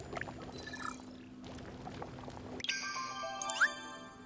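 Sparkling lemongrass water is poured in the Mario+Rabbids video game, with a soft watery glug and fizz, then a brighter bubbling pour and a small rising tinkle near the end, quiet and close.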